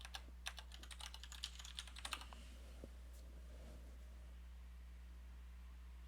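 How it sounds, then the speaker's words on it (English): Quick typing on a computer keyboard, a burst of close, crisp key clicks for about two seconds, then a quiet hum with no speech. "let's just type Daniel Wainwright Lisp history"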